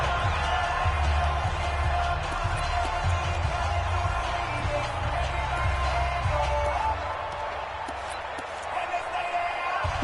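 Stadium crowd noise swelling at an NFL football game against the Seahawks ahead of a big third down, a steady dense roar of cheering fans with broadcast commentary talking over it throughout.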